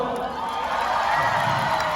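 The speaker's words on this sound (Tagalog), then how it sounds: "Magpalakpakan po na may kasamang hiyawan." A crowd at a live event claps and cheers with whoops and shouts, a dense, loud, steady roar of hands and voices lasting the whole two seconds.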